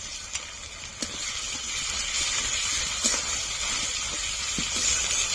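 Ginger and garlic paste is stirred in a frying pan for Bengali chicken kosha, with a continuous frying hiss and occasional sharp scrapes of the spatula against the pan.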